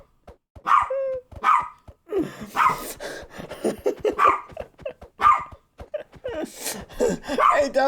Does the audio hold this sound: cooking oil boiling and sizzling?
no